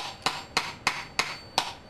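A hammer taps a weight down into a pinewood derby car, five sharp, evenly spaced knocks about a third of a second apart, close and crisp with no speech.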